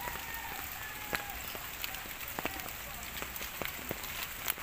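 Heavy rain from Typhoon Ulysses falls steadily on surfaces around a rural garden plot, a dense constant patter with occasional sharper drips and knocks, close and continuous with no voices.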